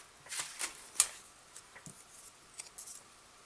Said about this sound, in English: I'm going to punch out the flower medallion